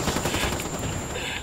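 Gunfire in a shooter video game rattles steadily for a moment as a dense, continuous burst, loud and close, with no pause in it.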